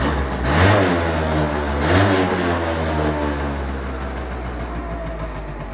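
Twenty-year-old moped engine fires up with two quick revving blips, then settles into a steady, close, buzzy idle that stays loud and even.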